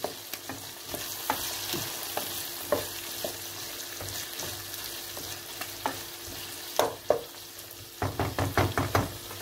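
Chopped onions sizzle steadily in a hot pan while a utensil scrapes and knocks against it, with a burst of quicker stirring strokes near the end.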